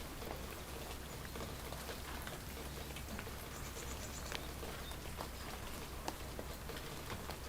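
Steady rain falls outdoors in a village in Aghsu, a constant soft patter of drops on surfaces with a few louder isolated drips, no voices.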